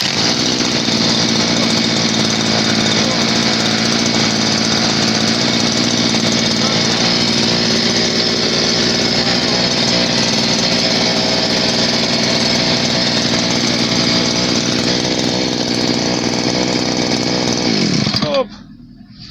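A Forte MKB 25 Lux motor cultivator's small petrol engine runs loud and steady at high speed for nearly the whole stretch, then cuts off abruptly near the end.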